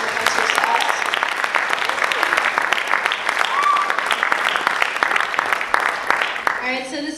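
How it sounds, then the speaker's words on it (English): Audience applause at an evening living wage community forum, a dense, steady clapping from a crowd lasting several seconds before fading near the end. "So let's just give a round of applause for everyone who came out tonight."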